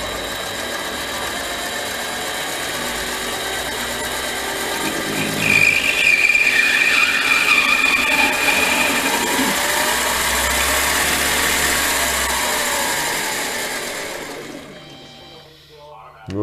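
A Pratt & Whitney lathe spins up and faces brass at higher RPM. It gives a steady mechanical drone with a thin high squeal from the cut partway through, then the sound winds down near the end. A person talks over it.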